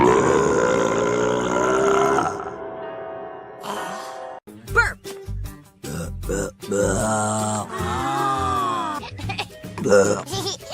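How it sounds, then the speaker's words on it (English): A female animated character from Dawn of the Croods lets out a long, loud burp, followed by a string of shorter belches and grunting vocal sounds, close and prominent. "Burp."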